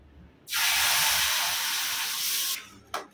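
Sugar syrup poured into a hot kadhai sets off a sudden loud hiss that lasts about two seconds, then cuts off, followed by a brief smaller hiss.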